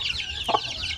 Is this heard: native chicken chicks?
yes